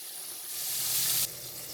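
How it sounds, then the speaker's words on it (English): Pork chops frying in a pan, a steady close sizzle that swells louder for a moment before dropping back to a constant hiss. "You can tell when your pork chops don't, or your chicken or whatever you may be frying, is about when it need to be flipped."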